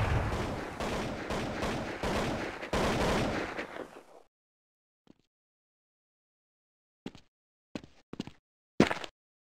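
Gunfire in a competitive team shooter match: a dense, loud burst of rapid shots for the first few seconds, then silence broken by a handful of short, sharp single shots and small bursts.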